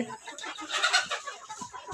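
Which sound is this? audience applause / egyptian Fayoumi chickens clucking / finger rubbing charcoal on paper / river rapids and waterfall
egyptian Fayoumi chickens clucking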